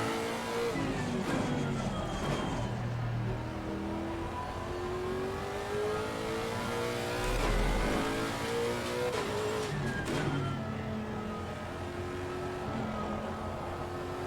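Race car engine in Assetto Corsa Competizione, revving and shifting through gears with a loud, sustained drone, rising and falling pitch, and brief tire squeal around corners, heard steadily throughout with no talking.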